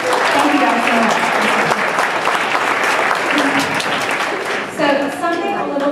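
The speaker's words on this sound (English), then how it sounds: "So a real round of applause for your parents, you guys." A school audience applauds parents, with sustained, dense clapping from a crowd in a hall and voices faintly mixed in toward the end.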